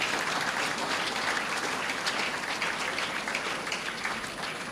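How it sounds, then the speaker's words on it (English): Sustained applause from an audience at a Ghana Navy Memorial Day event, a dense, even clatter of many hands lasting throughout and tapering slightly at the end. "A round of applause to her once again."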